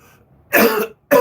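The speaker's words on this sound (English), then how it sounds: "I can feel it when I cough right here" Two harsh, close coughs in quick succession, the first longer and the second cut short, with a brief silence between them.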